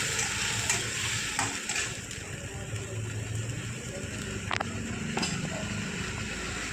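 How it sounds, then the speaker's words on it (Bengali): Spice paste sizzling in oil for a Bengali potato and cauliflower curry, a steady close frying hiss with scraping stirring strokes and occasional sharp clinks. "এবার মশলাটাকে বেশ ভালো করে কষিয়ে নেব যতক্ষণ না একটু তেল ছাড়ছে।"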